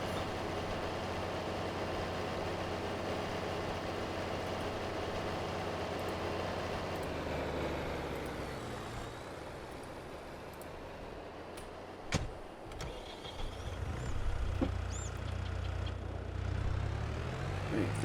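A farm tractor engine in a farming simulation game drones steadily with low rumble, then shifts and quiets midway before picking up again with a few clunks, heard alone without talk.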